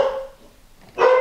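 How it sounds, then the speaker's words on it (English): Dogs bark twice, close and fairly loud, with a short gap between the two barks. "Dogs are back."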